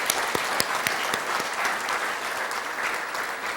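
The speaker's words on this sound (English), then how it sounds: "Let's give them a round of applause." A school audience at a Black History essay contest applauds steadily, a dense continuous clapping with a few sharp individual claps standing out near the start.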